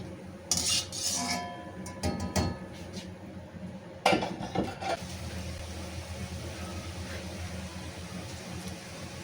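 Spinach pakoras fry in hot oil while a slotted spoon lifts them out of the pan, producing clattering metal scrapes and clinks in the first half over a steady background sizzle.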